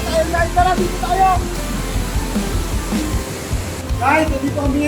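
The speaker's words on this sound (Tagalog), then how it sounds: "Nakakatakot yung tunog ng tubig" Water rushes at Wawa Dam, a constant roar close by beneath a person talking over it.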